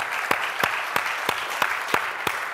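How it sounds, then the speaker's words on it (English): Conference audience applauding sponsors at the Velocity 09 opening welcome, a steady wash of clapping from a large crowd with a few sharp thumps recurring at regular intervals, no voices over it. "So let's give them a big round of applause."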